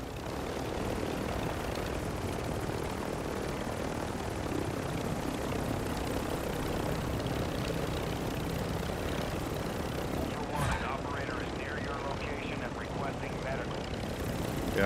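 A helicopter in Call of Duty flies with a dense, steady rotor and engine roar that fills the whole stretch at constant loudness, with a short sharp burst near the end.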